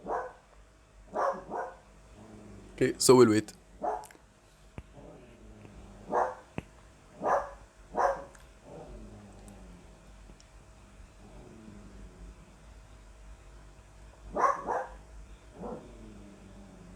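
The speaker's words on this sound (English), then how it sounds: "Now my dog's just barking." A dog barks repeatedly in scattered single and double barks, fairly close, with a brief spoken remark partway through and quiet pauses between.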